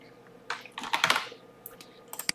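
Quick bursts of computer keyboard typing, soft, close and brief, with a few clustered keystrokes, a pause and then a couple of last taps, with no voices over them.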